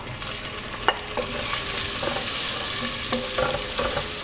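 Onion added to hot oil already used for frying slivered almonds and pine nuts: a loud, steady frying sizzle with intermittent clatter and scraping from stirring.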